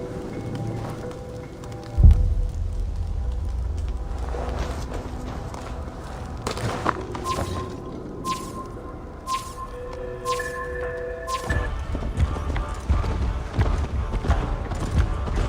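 Horse hoofbeats in Assassin's Creed Valhalla pound steadily along with a thudding clip-clop, mixed with game sound effects and a sharp thump early on.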